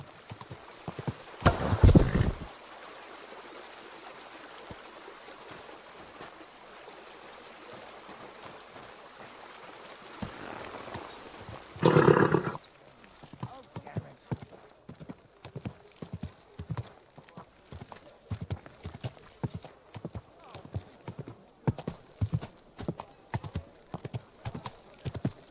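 Horse hooves clip-clop in Kingdom Come: Deliverance II, the steady rhythmic footfalls growing clearer and more regular through the second half, with a brief whinny early on and a soft running stream in the background.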